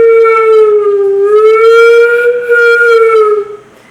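A single sustained flute note blown with the embouchure rolled in, clear and steady with a slight pitch waver, heard close and alone for a few seconds before fading out.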